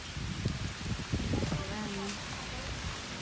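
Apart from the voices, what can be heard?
heavy rain falling in Tagaytay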